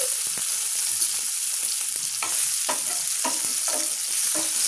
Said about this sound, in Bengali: টমেটোটা একটু ভাজা হোক।